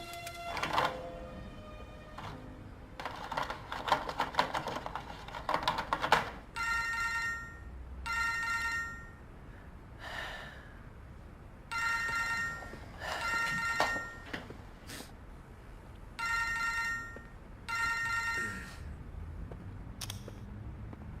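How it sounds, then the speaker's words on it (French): A telephone rings repeatedly during a video call, a regular sequence of bright ring bursts with short gaps, fairly quiet and alone, after a stretch of clicks and noise at the start. "Je vais faire le numéro."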